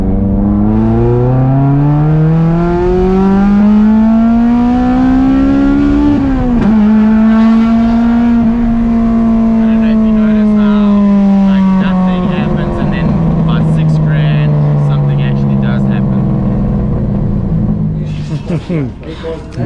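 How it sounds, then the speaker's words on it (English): A Honda K-series car on its old exhaust system accelerating hard through a rolling second-gear pull, the engine note climbing steadily, dipping briefly at a shift, then droning on loud and close with faint rattles near the end. "Gonna do a rolling second gear pull."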